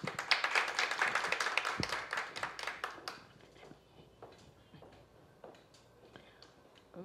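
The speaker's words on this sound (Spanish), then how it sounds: "Recibamos, por favor, así a la ingeniera Xiani Vázquez Cardeña con un caluroso voto de aplausos" A short burst of warm applause from an audience at an engineering institute event, dense clapping for about three seconds that thins out into a few scattered claps and quiet room noise.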